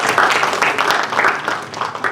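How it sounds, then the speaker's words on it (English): Audience at a TiECON Chennai business conference applauding; a short, dense burst of clapping that stays fairly loud for about two seconds, with faint talk mixed in. "Let's give him a big round of applause."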